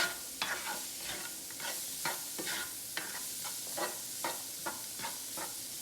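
Vegetables sizzle as they sauté in a pan for salmon teriyaki pineapple bowls, a steady frying hiss broken by repeated stirring scrapes at an uneven rhythm, close and moderately loud with no talking.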